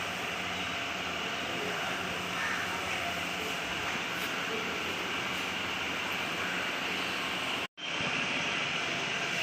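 Hyundai Verna car engine idling with fluctuating rpm, a steady loud broadband mechanical roar that holds throughout and cuts out briefly near the end.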